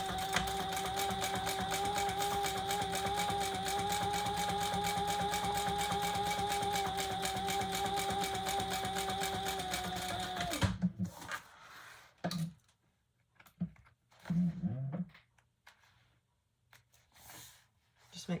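A sewing machine topstitches thick leather for a sling bag, giving a steady, continuous mechanical hum with even tones for about ten seconds. It then stops abruptly, leaving quiet pauses and soft breaths and handling sounds.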